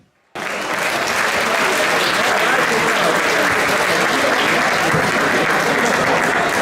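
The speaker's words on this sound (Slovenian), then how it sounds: "Če boste dali še en velik aplavz," Applause from a crowd at the opening of an autumn agricultural and crafts fair in Komenda bursts in abruptly after a brief silence, then continues as a loud, sustained, even wash of clapping.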